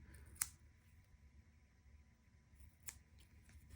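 Two short, crisp snips from small scissors trimming a dried glue blob on a yarn pom pom Easter chick, spaced a couple of seconds apart against quiet room hum.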